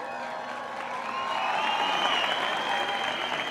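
A large crowd at the opening of the 2024 Hyundai Archery World Cup Final in Tlaxcala applauds, with dense clapping that swells louder partway through and carries on steadily, mixed with a few cheers.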